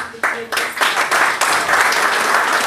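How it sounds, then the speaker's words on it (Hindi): Audience at a London mushaira (Urdu poetry gathering) breaking into loud applause, with clapping starting in a few bursts and quickly swelling into a full, close, sustained ovation. "मुस्तफ़ा अली खान साहब, आपकी भरपूर तालियों।"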